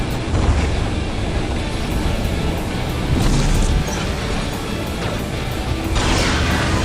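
Heavy robot guns firing in War Robots on a Samjok-type four-barrel mech, a dense continuous roar of loud shots and crashes with metallic impacts, no voices.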